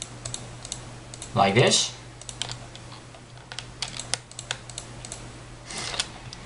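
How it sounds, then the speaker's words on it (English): A computer keyboard and mouse click in quick bursts as the shift key is held and shapes are selected in a graphics editor, with one louder cluster of clicks near the start and light tapping under a brief spoken phrase. "holding the shift button and clicking on all the blue shapes"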